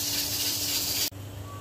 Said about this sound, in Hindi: और इधर मैं बना रही हूँ तड़का। सिर्फ लहसुन का, दालचीनी का टुकड़ा डाला है और लौंग।